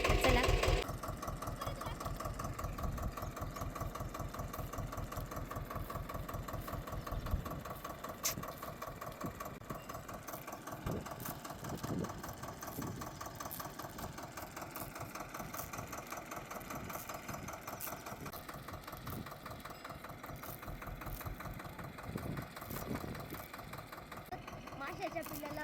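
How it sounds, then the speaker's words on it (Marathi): A tractor engine runs steadily on a farm, a rhythmic mid-pitched chugging that continues throughout, with people talking over it at times. "ट्रॅक्टर आलेला आहे"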